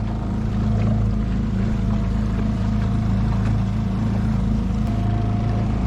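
Constant low drone of a small sailboat's engine chugging steadily in calm, windless water, with faint water wash over it, continuous and fairly loud.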